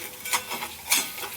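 A spice paste with roasted cumin powder is stirred in a pan over a medium flame for a potato and pointed gourd curry. Soft, uneven scraping strokes of the spoon sound close, with a few sharper scrapes and a faint sizzle beneath.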